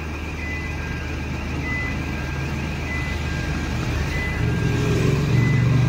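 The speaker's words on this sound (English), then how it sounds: "There's plenty of bloody alarms going on." Busy London street traffic with alarms and sirens going off, a continuous roar of passing vehicles with thin steady alarm tones running across it and a louder engine rumbling near the end.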